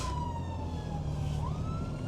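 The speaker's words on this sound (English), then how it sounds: "I'll just let this ambulance go through." An ambulance siren wails along a road with a continuous, gliding tone that dips and then rises again as the vehicle passes, heard at moderate distance over a low traffic rumble.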